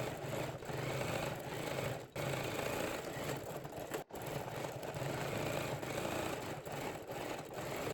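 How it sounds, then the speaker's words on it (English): A sewing machine stitches along bias tape on quilted tote bag panels, running in a steady continuous whir with two brief pauses, close and alone. "And then sew with 1 millimeter seam allowance right on top of the bias tape."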